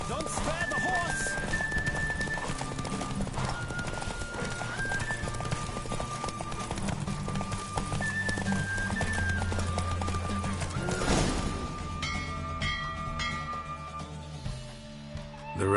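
Rapid hoof clip-clop from a horse galloping in a race in the video game The Witcher 3 runs steadily under game music and a shouting voice, with a whinny.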